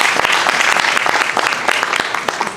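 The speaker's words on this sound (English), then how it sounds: "I'll give everybody a round of applause for coming" Applause from the audience at a community alliance meeting, a steady dense clatter of many hands clapping together, fairly loud and close, sustained for a couple of seconds with no talking over it.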